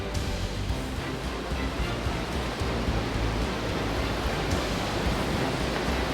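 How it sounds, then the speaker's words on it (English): Dettifoss in Iceland, a huge waterfall plunging into a 44-metre canyon, gives a steady, dense, loud roar of falling water that stays unbroken throughout. "Dedifoss, the biggest European waterfall with a flow rate of 200 cubic meters per second, bottoms out into a 44-meter canyon."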